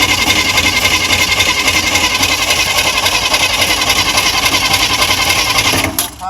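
A Chevrolet Corvair engine cranks over and over on the starter without catching, starved of fuel, producing a steady, loud, rhythmic churning that runs unbroken until it cuts off near the end.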